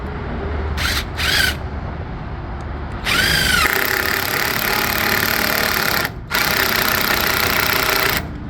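A power drill drives lag screws into a trailer, with two short whirring bursts followed by a long, loud, sustained run, a brief pause, and then another long run.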